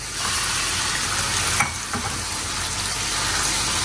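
Meat fries in hot oil with whole black peppercorns and cinnamon in a home kitchen, a dense steady sizzle filling the space up close, with a brief clatter midway and no speech.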